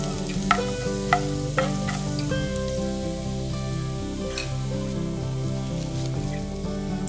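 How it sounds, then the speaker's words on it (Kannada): Cumin seeds fry in about four tablespoons of hot oil in a pan, giving a steady soft sizzle with a few sharp crackles and pops, set against continuous background music. "ಜೀರಿಗೆ ಫ್ರೈ ಆಗ್ತಿದೆ"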